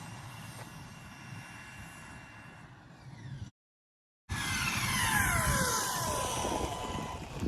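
Stock Laegendary Thunder RC car on a 3S LiPo at full throttle, a loud sustained whine with rising and falling pitch sweeps plus wind rumble, briefly cutting out before returning louder.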